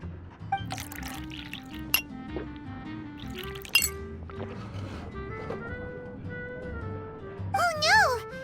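Glasses clink together in a toast inside Genshin Impact, a few bright chiming taps ringing over background music and character voices, the clearest clinks near the end.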